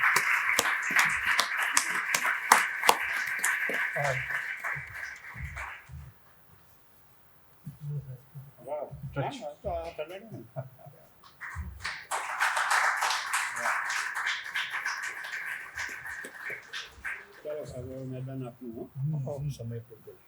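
Audience applause at a Gujarati literary talk as a poet presents a memento, with a burst of clapping, then a quiet stretch with scattered sounds, then a second long wave of clapping before voices return.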